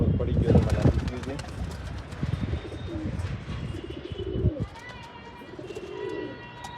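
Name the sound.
racing pigeons cooing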